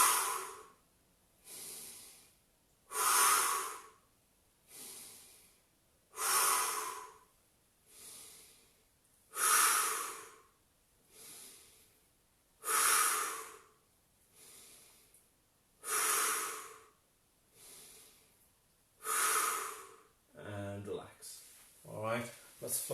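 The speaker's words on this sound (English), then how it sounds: "Breath in, breath out and lift." Deep, slow breaths during a Pilates core workout, about eleven long audible inhales and exhales in a steady rhythm, close and breathy, ending with a brief rustle of movement.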